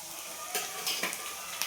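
Whole spices such as black and green cardamom, cloves, peppercorns, caraway and cinnamon sizzle in a little oil for a mutton dish, with a steady soft crackle and a few scraping stirs, no talk.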